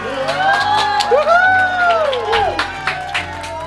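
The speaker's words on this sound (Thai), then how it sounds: "ขอเสียงปรบมือต้อนรับอดีตนักฟุตบอลทีมชาติ" An audience claps, cheers and whoops to welcome a former national team footballer as a surprise guest; the crowd noise is loud and close, with excited voices riding high over the applause.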